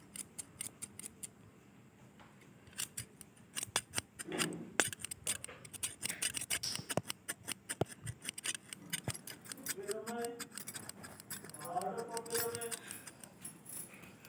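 Scissors snipping through cloth while cutting a round neckline, a steady run of crisp close clicks and slicing strokes, with someone speaking briefly over the cutting.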